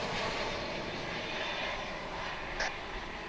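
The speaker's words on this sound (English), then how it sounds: "we greet Frontier Airlines Flight 2132 coming in from Las Vegas" A Frontier Airlines Airbus A320 passenger jet arrives from Las Vegas at Dallas Fort Worth International Airport, a continuous broad engine roar heard outdoors at moderate distance, steady throughout with no talking.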